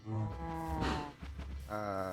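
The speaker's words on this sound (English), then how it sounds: "You can see I've been breeding up the cows" Cattle in a video game cow farm moo repeatedly in overlapping calls, loud and close, with no talk over them.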